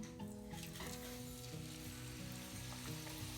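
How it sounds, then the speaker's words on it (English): Potatoes sizzle steadily in hot oil, a close, quiet, continuous crackling hiss. "I'm going to start frying the potatoes now."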